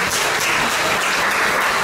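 Dense, steady applause from an audience welcoming team members onto a stage at an evening event in Paris, filling the whole stretch at even loudness with no talk over it.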